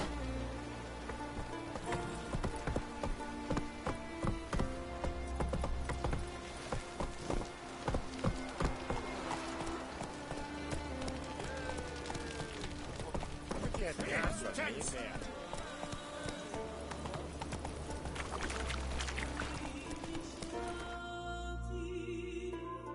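Hooves of Roach, a horse in the video game The Witcher 3, clopping rhythmically through rain, steady galloping beats alongside falling rain and a musical backdrop, with a voice speaking briefly.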